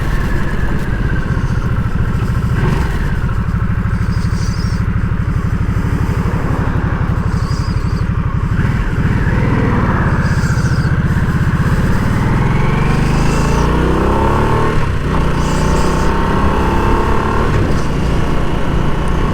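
Harley-Davidson Nightster 975 motorcycle ridden on the road through its riding modes, a loud continuous engine drone with repeated throttle swells and rising and falling revs as it accelerates and shifts, heavy wind rush throughout.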